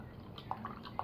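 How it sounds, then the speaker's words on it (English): Non-alcoholic beer poured from a big bottle into a glass, heard as a faint stream with a few soft, bright drips and glugs spread across a second of quiet. "I'm going to pour out, I can't pour it all out obviously, it's a big bottle"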